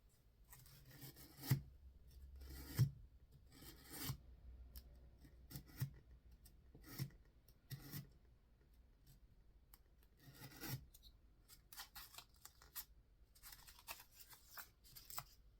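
Folded book pages for a Halloween book pumpkin are torn and peeled away by hand: scattered dry rasping and rubbing paper sounds, close and fairly quiet, arriving in irregular bursts with pauses between and no talk.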